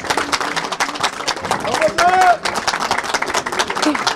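Guests clap at a curtain accessories shop opening, brisk scattered applause from a small crowd, close and lively, mixed with voices and a brief whistle.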